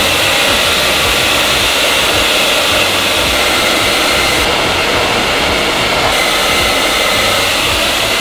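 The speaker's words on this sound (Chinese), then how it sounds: "一层一层的把它吹干。" A hair dryer blows steady and loud across the whole stretch as hair is dried layer by layer from the roots after styling clay is applied, a continuous airy whoosh with no voices.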